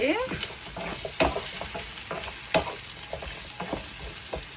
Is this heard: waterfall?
no